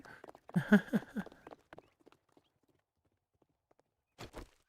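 Horse hooves clip-clop in the 7 Days to Die video game with the Viking mod, a quick burst of hoof strikes followed by a sparse few, then two more near, clear steps after a pause.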